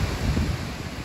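Ocean surf at an Outer Banks beach in North Carolina, a brief roar of breaking waves mixed with heavy wind buffeting on the microphone, loud and continuous with no voices.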